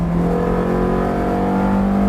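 A Ferrari F430 on a racing circuit accelerates at full throttle, its engine holding a loud, steady high-pitched drone with rising harmonics, heard from onboard.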